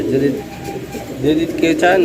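A single pigeon coos close by in a low, throaty, rolling call that swells toward the end, heard alone without talk.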